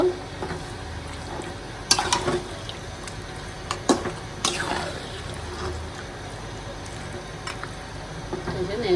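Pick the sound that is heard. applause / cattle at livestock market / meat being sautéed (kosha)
meat being sautéed (kosha)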